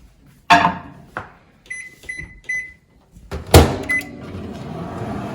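A couple of clunks and a series of short electronic beeps from a microwave oven, then a heavy door thump followed by a low, steady humming as it runs, heating brownie batter.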